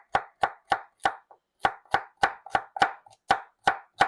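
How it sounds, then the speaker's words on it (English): Knife chopping carrots on a cutting board for vegetable soup: about a dozen crisp, close chops in a steady rhythm with short pauses, and no talking. "And keep on chopping."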